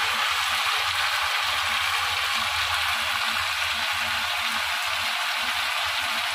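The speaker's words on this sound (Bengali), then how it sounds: "তো এবার আমি দিয়ে দিলাম ভেজে রাখা আলু। তো আলুটা দিয়ে আবারও বেশ কিছুক্ষণ কষিয়ে নেব।" Chicken kosha with fried potatoes sautés in oil, giving a steady, close hiss and sizzle throughout with a faint low rhythmic rumble underneath.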